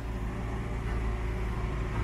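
Heavy excavator working on a large house demolition, a steady loud diesel engine rumble with continuous low mechanical drone and no pauses, nearby.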